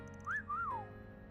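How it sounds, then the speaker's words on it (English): A person whistles a short two-note tune, a quick rising note then a longer swooping one that falls away, close and clear with no talking over it. "Why did you just whistle?"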